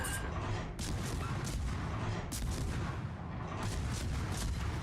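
Heavy naval gunfire from warships in World of Warships, with dense booming salvos and blasts piling on top of one another nonstop, loud and close throughout.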